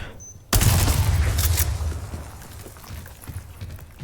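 A shotgun blast in the video game Resident Evil 4 bursts in suddenly after a brief quiet moment, loud and close, then decays into a rumbling tail with scattered smaller noises.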